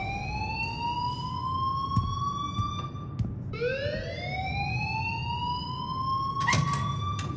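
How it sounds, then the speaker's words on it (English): A rising and falling electronic alarm siren wails steadily in Life Is Strange, sweeping up in pitch repeatedly at a loud, even level against a low rumble. "please turn off that alarm"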